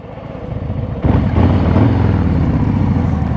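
Harley-Davidson Fat Boy with its exhaust flap open: a quieter idle bursts into a loud, deep rev about a second in, then holds a strong throbbing roar close by.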